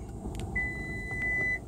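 A Toyota RAV4 blind spot monitor sounds a single sustained electronic warning beep of about one second inside the car, heard over a low road and engine hum.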